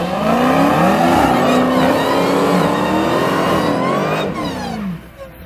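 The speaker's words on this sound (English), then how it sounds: "Demon on the right, just so you guys know, and wide body Hellcat on the left" Two Dodge muscle cars, a Demon and a widebody Hellcat, rev loudly and close by in a sustained roar with rising and falling engine pitch that fades slightly near the end.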